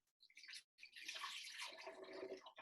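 Half a cup of water poured into a container while making a salad sauce, a close splashing pour with a short break before it continues steadily.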